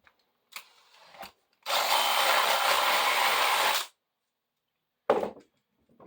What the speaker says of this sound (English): I use a regular spade bit to deepen that hole.